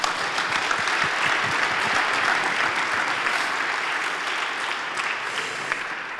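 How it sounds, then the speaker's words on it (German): Audience at a university idea-pitch event giving warm applause, dense sustained clapping from many hands throughout, slowly easing in loudness toward the end. "Ganz herzlichen Dank noch einmal und einen herzlichen Applaus."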